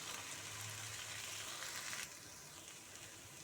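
Eggs frying in a pan with pepper masala spread over them on low heat, making a soft continuous sizzle that drops a little in level partway through.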